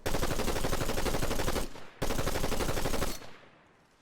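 Assault rifle fire in the video game Fortnite: two loud, rapid automatic bursts of about a second and a half each, separated by a short gap, the second trailing into a fading echo.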